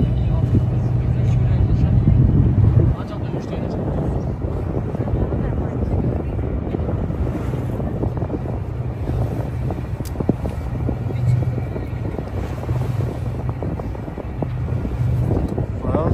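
A tour boat cruises the Bosporus in Istanbul, its engine and hull noise forming a steady low rumble with wind buffeting the microphone. The drone runs without a break through the whole stretch, and no one speaks over it.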